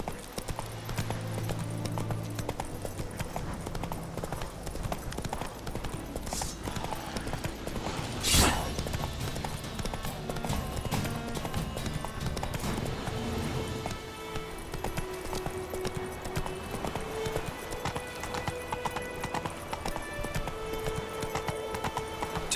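The horse Roach galloping in The Witcher 3: rapid, rhythmic hoofbeats thud steadily throughout, with a brief loud snort or whinny partway through and soft game sounds beneath.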